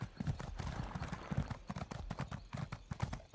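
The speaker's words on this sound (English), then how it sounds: "There was a horse there." Horse hooves clip-clopping at a steady walking rhythm in The Elder Scrolls Online, close and clear, with a couple of soft snorts and no talk.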